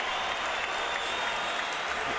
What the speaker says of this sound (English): these fans are standing, cheering